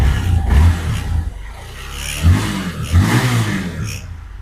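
A 2023 Honda CRF motorcycle engine revving up in repeated loud surges, close by, with a clattering mechanical edge and no talk over it.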